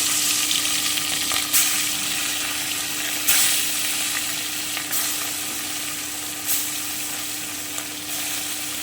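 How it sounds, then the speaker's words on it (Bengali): Kotti fish sizzles steadily in hot oil, a constant crackling hiss with occasional sharper spatters and scrapes. "এবারে আমি মাছগুলোকে হালকা করে ভেজে নিচ্ছি"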